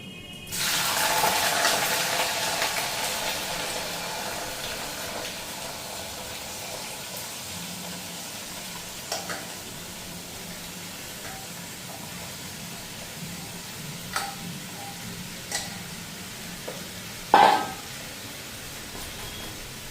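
Potatoes, pointed gourd and squash hit hot oil in a pan with a loud burst of hissing that settles into a steady softer sizzle, dotted with occasional utensil taps and a sharp clatter near the end.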